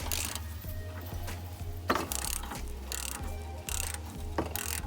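Ball joint puller being tightened on a steering ball joint: a rapid ratcheting clicks in a steady rhythm, close and fairly loud, with several sharper metallic knocks between the runs of clicks.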